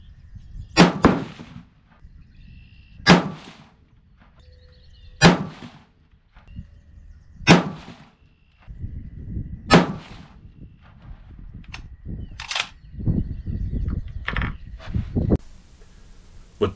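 Five loud .224 Valkyrie rifle shots loaded with Varget powder, fired at a steady pace about two seconds apart, each a sharp crack with a brief echo, followed by quieter rustling and handling noises.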